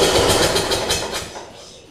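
A Murray riding mower engine on choke cranks and tries to catch, giving a loud, rough, pulsing churn close by that sputters and fades without firing.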